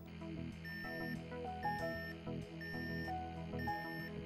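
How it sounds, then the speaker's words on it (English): An X-zone gas detector emits a series of short electronic beeps at regular intervals during its pump test, steady tones repeating over a low background hum. "The pump LED lights red-green and emits a beep."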